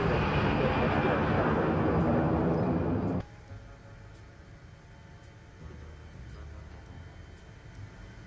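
A heavy airliner powers up on runway 10 left in a flight simulator, with a loud, roaring engine rush that cuts abruptly to a quieter steady hum as the takeoff view shifts.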